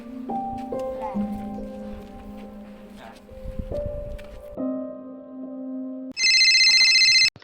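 A telephone rings with a bright, electronic tone that bursts in loudly near the end, following a stretch of tonal sounds and voices talking.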